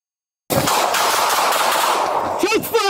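Gunshots ring out in a rapid loud burst during a police standoff over a domestic incident, echoing sharply with brief shouting near the end.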